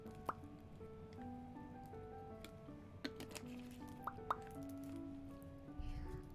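Water trickles and drips at a Japanese hot spring, with soft plops and splashes repeating quietly and a faint pouring swell near the end.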